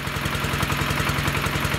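A Scout T-18 mini tractor engine runs steadily close by, a fast even clattering chug with no voices.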